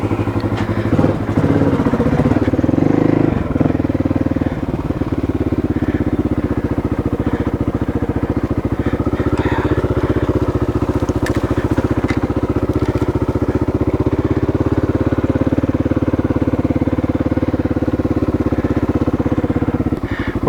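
A Honda XR600R motorcycle engine running after a kick start, a loud, close, steady thumping single-cylinder idle with some clatter, sustained throughout with no talk.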